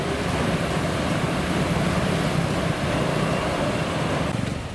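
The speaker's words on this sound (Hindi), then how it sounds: "नदी में पानी तेज बहाव से बहता दिख रहा है" Floodwater of the swollen Ganges river rushes fast past a village in Chhapra, Bihar, heard as a loud, steady broadband roar with wind buffeting the microphone and no voices.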